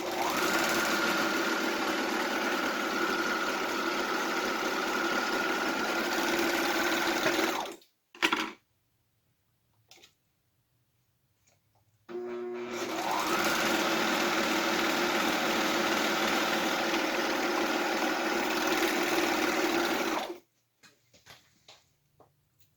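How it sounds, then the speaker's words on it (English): A serger sewing machine overlocks the edges of fabric for a mask, running in two long steady whirring passes with a quiet pause between them and a few light clicks. "Serge the edges of it?"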